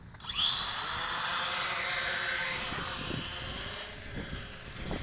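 A JJRC H9D four-channel FPV quadcopter drone spins up and flies outdoors in a breeze. Its high, steady motor whine rises quickly at the start and then holds near and constant throughout, with faint wind rumble underneath.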